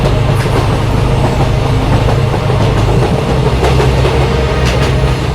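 A train runs on rails through West Bengal, a loud, close, continuous rumble with rhythmic clickety-clack of wheels over track joints and no voices.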